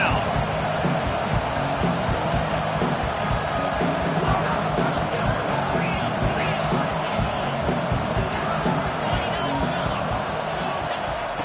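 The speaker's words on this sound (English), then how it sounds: "Here comes this home crowd as the defense tries to get off the field on third down" Home crowd at a college football stadium during a Florida vs Utah game, a steady loud roar of cheering and noise throughout as the defense works on third down, with no clear individual voices.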